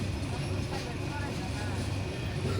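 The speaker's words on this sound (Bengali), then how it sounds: "ট্রেন এখন গতি নিচ্ছে, প্ল্যাটফর্ম ক্রমশ ছোট হয়ে আসছে" Cox's Bazar Express pulling out of Cox's Bazar station and gathering speed, a steady broadband rumble of wheels and carriage with murmured voices faintly in the background.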